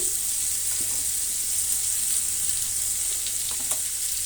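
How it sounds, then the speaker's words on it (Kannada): Hot oil sizzles steadily in a pan while water apple is fried with two more spoonfuls of oil added, with occasional faint stirring clicks and no talking. "ಈಗ ಇದ್ರ ಮೇಲೆ ಮತ್ತೆ ಎರಡು ಸ್ಪೂನ್ ಆಯಿಲನ್ನು ಸೇರಿಸ್ತಾ ಇದ್ದೀನಿ"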